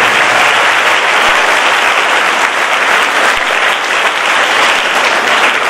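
Loud, dense applause from a large audience honoring a Padma Shri actor, a steady roar of clapping that fills the whole stretch without pause.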